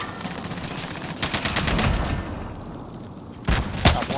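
Battle royale video game gunfire rattles in repeated bursts over constant background noise, with a couple of sharper, louder shots toward the end.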